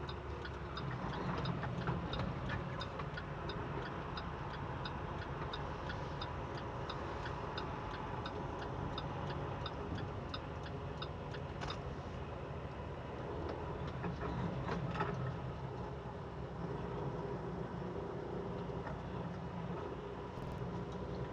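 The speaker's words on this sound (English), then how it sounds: "Okay, let's put this into 4th gear." A 13-speed truck engine drones steadily while the driver shifts into fourth gear, with a constant low rumble and a faint rapid ticking over it, recorded from inside the cab.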